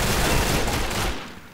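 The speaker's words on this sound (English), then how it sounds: "Hear gunfire." Heavy gunfire erupts in the Combat Arms video game as a round begins, a dense, loud burst of overlapping shots that thins out near the end.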